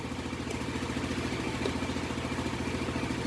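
Motorcycle engine idling steadily with the headlight off, a close, continuous low mechanical chug with faint clatter throughout, no talking.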